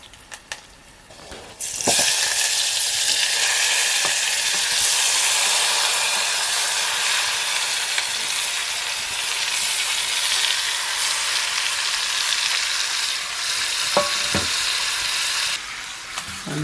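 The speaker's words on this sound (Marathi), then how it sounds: "मसाल्यामध्ये आता मच्छी चांगल्या प्रकारे मिक्स करून घ्यायची" Tuna, locally called dandavshi or kupa fish, sizzles steadily in masala while being mixed in a village kitchen in Konkan. The frying is loud and continuous, with a few faint knocks near the end.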